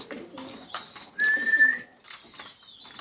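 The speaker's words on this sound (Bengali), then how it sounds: "আর একটা সাদা কবুতর চলে আসলো" Pigeons coo in low, throaty bursts close by, with a brief high whistle and a few soft chirps mixed in.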